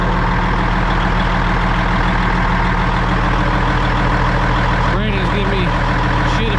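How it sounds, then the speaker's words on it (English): An excavator engine warms up nearby with a loud, steady diesel idle rumble that holds constant throughout, and a brief higher squeal or whine comes in near the end. "Let that excavator warm up."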